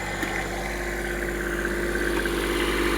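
A tractor pulling a rotavator and furrower through a farm field, its engine running in a steady, loud drone at constant load with no pause in the throbbing, and no talking.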